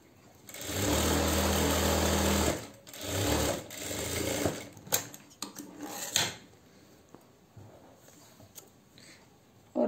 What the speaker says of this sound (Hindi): अब हमें इसके अपोजिट साइड को सिलाई कर लेनी है।